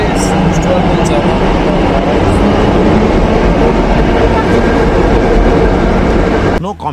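A metro train runs with a loud, steady rumble and rattle throughout, ending abruptly near the close.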